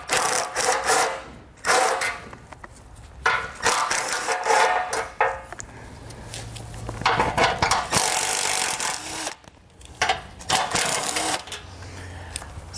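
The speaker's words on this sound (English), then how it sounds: "So we'll go ahead and grab our socket and pull those off." Socket ratchet backing out 12 mm head bolts from a 2017 Subaru bumper beam, heard as close, busy clicking and ratcheting bursts with brief pauses and some metallic clatter.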